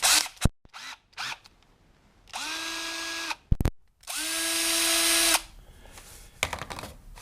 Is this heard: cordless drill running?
yes